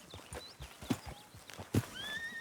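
A horse in the Red Dead Redemption 2 video game whinnies loudly while its hooves clip-clop in an uneven rhythm close by, with a second neigh toward the end.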